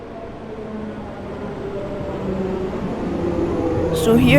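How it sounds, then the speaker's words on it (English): A train in a train-driving video game pulls into a station bound for Harrow and Wealdstone, a low droning whine that swells steadily louder toward the end, with a voice talking over it. "here comes our final train. Kinda sounds like an aeroplane when it's entering the station"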